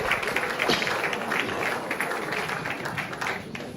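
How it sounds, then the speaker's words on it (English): A large audience applauding at a college centenary launch ceremony, a steady, moderately distant wash of clapping from start to finish with no voices standing out. "With a very big hand of applause, shall we invite the college secretary"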